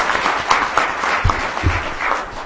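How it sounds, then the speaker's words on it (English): Audience applause for panelists at a law and music industry panel event, a steady wash of many hands clapping throughout, fairly loud and continuous with no speech. "Let's give a round of applause for our panelists."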